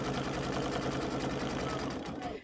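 Sewing machine stitching quilting fabric, a loud steady rapid whir running continuously throughout, close up.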